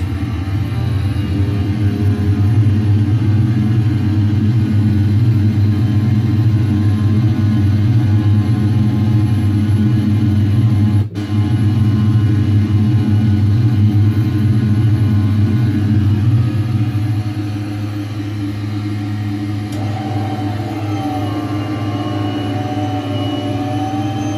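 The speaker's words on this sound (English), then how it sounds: "This airplane normally takes off without flaps." Steady loud jet engine roar of an airplane taking off in a flight simulator, deep rumbling tones holding constant before easing slightly lower in pitch near the end.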